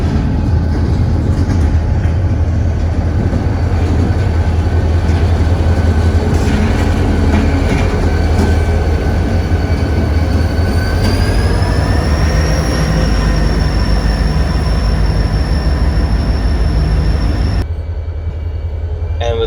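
A model Florida East Coast Railway freight yard job slowly shoves intermodal cars with a heavy, continuous rumble and clanking. A rising metallic wheel squeal sets in partway through, then everything drops off abruptly.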